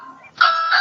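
A Ring doorbell chime sounds at a house door, a bright two-tone electronic ding that rings out loud and sustained after a brief faint murmur.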